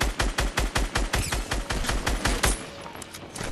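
Rapid bursts of automatic gunfire in a video game, a steady rattling string of close, loud shots aimed at a flying player, ending after a couple of seconds in a fading tail.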